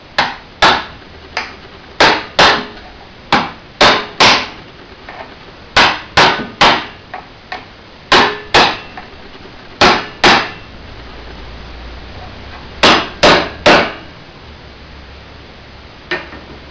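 A steel chisel is hammered into the solder seal on the head of a General Electric x-ray machine, giving a series of sharp, loud metallic strikes, often in quick pairs or triplets, spread unevenly across the stretch with short pauses and no talk.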